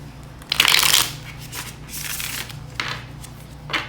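Cards riffle-shuffled in several bursts, a long crisp riffle first, then shorter ones, close and fairly loud with a low steady hum beneath.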